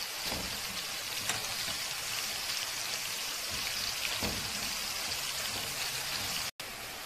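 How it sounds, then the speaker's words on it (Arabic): Bulgur kibbeh pieces frying in hot oil give a steady, dense crackling hiss with no letup, close and fairly loud, broken only by a brief dropout near the end. "هون اخواتي بعد ما قلينا اول قطعة نحط القطعة الثانية ونقليها"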